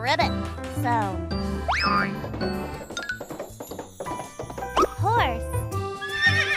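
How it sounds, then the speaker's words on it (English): A horse whinnies with a rising and falling neigh over a cheerful backing tune in a children's animal-sounds lesson, and a narrator's voice is also present. "A horse makes a neigh sound."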